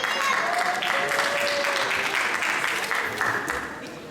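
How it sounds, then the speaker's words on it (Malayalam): A Malayali community audience at a Christmas and New Year gathering in Baltimore applauds as women from a church women's forum are welcomed onstage. Full, sustained clapping fades slightly toward the end, with a voice faintly audible beneath. "നിങ്ങൾ അവരെ കൈയടിച്ച് ഹാർദവമായി സ്വീകരിക്കണം."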